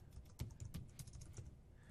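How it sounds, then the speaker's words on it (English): Keys on a computer keyboard tapped slowly and unevenly, a handful of soft clicks close by in a quiet room. "My office is cold, so I'm typing slow."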